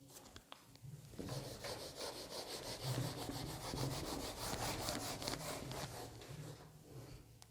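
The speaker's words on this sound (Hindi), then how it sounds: "इसको भी रब कर रहा हूँ" Writing is rubbed off a board during a physics class lecture, making a steady, close scrubbing rasp of quick back-and-forth strokes. It continues unbroken for several seconds with no talking.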